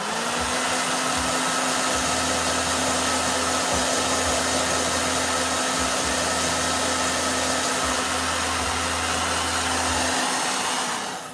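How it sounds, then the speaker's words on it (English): A hair blow dryer runs steadily at close range for about ten seconds, a loud continuous whir with a low hum, used to dry paint on a portrait of King Theoden. "Blow dryer."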